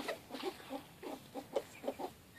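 A rooster clucks softly several times in quick succession, faint and somewhat distant against quiet background noise.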